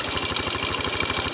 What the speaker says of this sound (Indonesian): usahakan kita geber gasnya sambil kita tempelkan ya, kita geber gas.